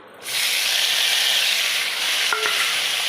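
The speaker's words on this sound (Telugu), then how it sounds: "అదే ప్యాన్లో కొంచెం ఆయిల్ పోసుకొని టమాటాలండి అర కేజీకి కొంచెం తక్కువ అండి" Tomatoes, just under half a kilo, sizzle as they drop into hot oil in a pan, a loud steady frying hiss that starts abruptly and carries on close with a brief clatter near the end.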